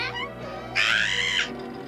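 A cartoon cat gives one drawn-out, rising meow in the middle, loud and close over a quiet musical background.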